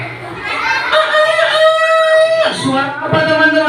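A person imitates a rooster's cock-a-doodle-doo in one long, loud, wavering crow at an Islamic Maulid gathering held at an elementary school, with faint voices in the background.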